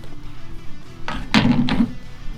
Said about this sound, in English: I'm going to start out with taking this little door off.